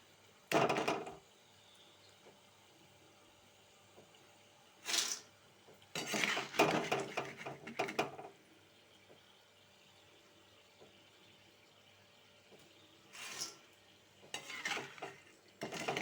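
Fried jackfruit chips scooped out of hot palm oil in a pan on low heat: a few separate bursts of clattering, scraping and sizzle with quiet gaps between, close and moderately loud, no talking.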